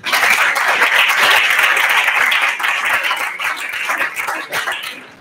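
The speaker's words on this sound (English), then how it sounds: "The judges clap." Judges clapping at a university student pitch competition, a fairly close, dense round of claps that holds steady then thins and fades toward the end.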